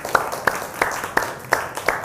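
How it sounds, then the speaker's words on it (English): A handful of hand claps at a county homeowners' association bootcamp panel, sharp and evenly spaced about three times a second, fairly close and steady with no voices over them. "Let's give Allison a hand clap"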